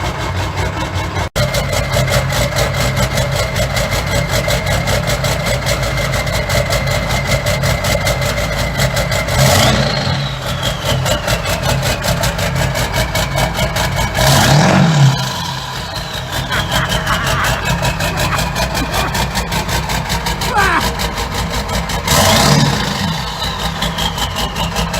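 A 7.3 Powerstroke diesel truck with custom-tuned 205cc 100% over injectors idles with a loud, steady rumble, then revs in three sharp bursts that rise and fall back to idle, close and alone.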